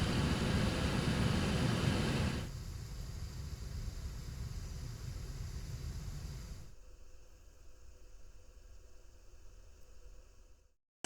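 Airplane cabin noise heard through AirPods Pro 2 and AirPods 4 noise cancellation, a broad steady roar that drops sharply in two stages, each step leaving a quieter, duller hum before cutting out.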